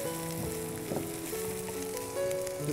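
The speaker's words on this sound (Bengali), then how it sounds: "এক্সট্রা অনিয়ন দিতে পারেন, এখান থেকে একটা জুস আসবে, আস্তে আস্তে ফ্রাই হবে" Onions fry in a pan for a spiced beef tripe dish, a steady close sizzle running throughout with faint tonal background sounds and no speech.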